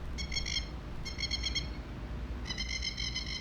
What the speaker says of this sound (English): I'm afraid that bird's gonna attack me.